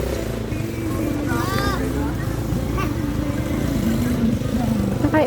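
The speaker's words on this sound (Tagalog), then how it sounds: "Andiyan na yung motor." A kulong-kulong motorcycle tricycle arrives by the Agbobotilya River in Zambales, its engine a steady, close low rumble beneath excited chatter and cheering.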